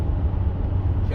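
Steady low car engine drone and road rumble heard from inside the moving vehicle, continuous and fairly loud throughout, with some speech-like sound mixed in.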